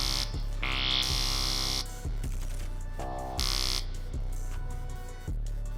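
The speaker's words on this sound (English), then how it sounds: "It's a pulsating bass called Screet." A pulsating bass sample called Screet from A Shark's Try Your Magic kit: a loud, gritty, buzzing synth tone throbs in repeated bursts, with bright harsh layers switching in and out over a deep sustained low end.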